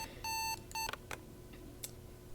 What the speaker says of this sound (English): My hand hits the button on the alarm clock before my eyes creak open.